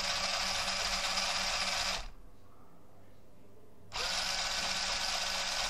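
Small DC motors driven through an Arduino L293D/L298N motor driver board whir with a steady high-pitched electric hum, cut off for about two seconds in a quiet gap and then starting again, close up with no talking.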